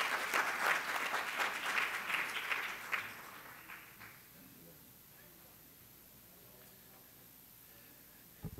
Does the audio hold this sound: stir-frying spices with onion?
no